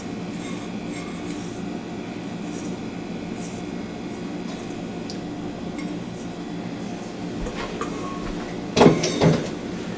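Soft scraping and rubbing of a spatula working chilled salad dressing out of a container, continuous and close, ending with a couple of louder knocks against the rim.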